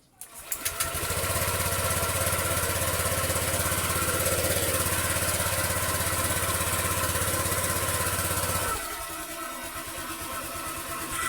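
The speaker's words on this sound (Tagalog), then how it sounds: "Antarin muna natin yung makina." A car engine idles loudly while warming up, a steady close pulsing hum after a few startup knocks, then drops to a quieter, rougher idle near the end.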